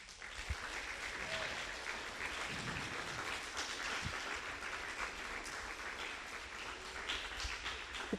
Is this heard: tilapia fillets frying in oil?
no